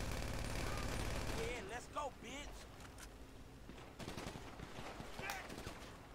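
Gunfire in the GTA video game: a dense, rapid burst of shots opens the clip, followed by scattered sharp cracks and bangs amid game noise, with people talking over it.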